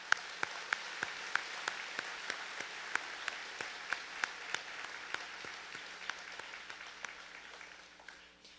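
Applause from a convocation audience for two interpreters, a steady wash of many hands clapping, faint and distant, with sharper individual claps standing out before it fades away.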